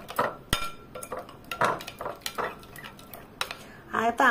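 Oats batter with a little jaggery being stirred in a bowl, with quick irregular clinks and scrapes of a spoon against the dish, loud and close, and no talking.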